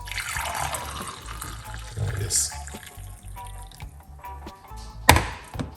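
Liquid pours out briefly with a soft splashing trickle, and a person speaks quietly in the background.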